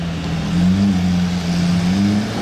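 A Lamborghini Aventador SV fitted with a Capristo exhaust idles and revs nearby, a loud steady low engine drone with a slight rise and fall in pitch, alone without talk.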